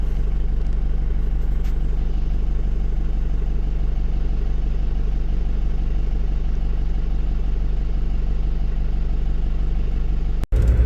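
A Land Rover Defender is driving, with a steady, loud low engine drone and road rumble heard from inside the cabin, and a sharp click just before the end, without talk.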